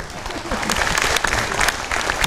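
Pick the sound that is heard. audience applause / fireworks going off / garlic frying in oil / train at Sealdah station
audience applause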